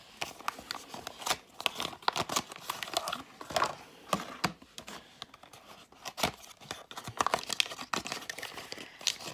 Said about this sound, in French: Je vous les déballe et je vous les montre tout de suite.